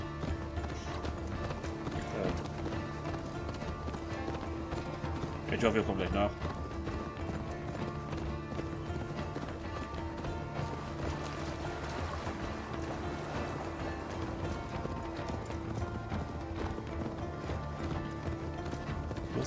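Horse hooves in Assassin's Creed Valhalla make a steady clip-clop of a ridden horse, moderately close and continuous, mixed with game ambience, under someone talking in German throughout.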